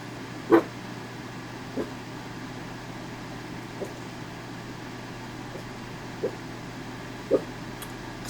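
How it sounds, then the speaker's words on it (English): A dog barks indoors a few times, spaced irregularly and muffled, mostly faint with one or two stronger barks, over a steady hum of fan or air-conditioner noise. "Can you stop barking?"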